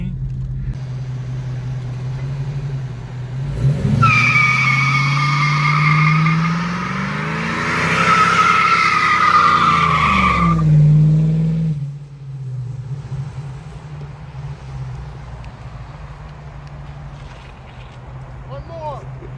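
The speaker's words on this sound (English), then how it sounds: "Burnout time?" A 1992 Ford Mustang GT 5.0 with a swapped 3.73 rear end does a burnout, the engine rising to a roar as the tires shriek loudly for several seconds before settling back to a steady idle.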